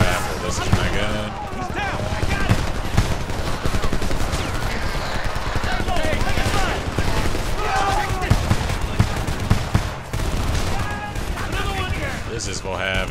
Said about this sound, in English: I do like this rifle, though.